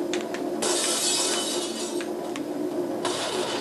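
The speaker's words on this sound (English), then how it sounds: "You're just gonna break every piece of glass that you see." Glass shattering in Tony Hawk's Pro Skater 3 on PS2 in the Los Angeles level: bright bursts of breaking glass, one near the start and another near the end, over a constant engine-like game rumble.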